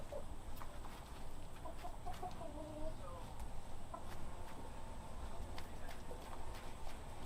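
Molting backyard chickens make soft, scattered clucks and brief calls outdoors. The sounds are fairly faint over a low background murmur.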